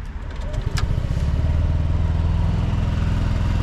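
A SYM ADX 125 scooter's engine catches almost at once, with no audible starter sound, then settles into a steady, close idle that runs to the end.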